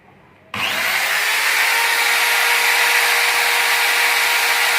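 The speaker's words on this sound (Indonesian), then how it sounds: "sekarang kita akan coba pakai beban, bor, mesin bor." A small 150-watt electric drill switches on abruptly and runs at a steady, loud whine without pause, powered during a capacitor bank test.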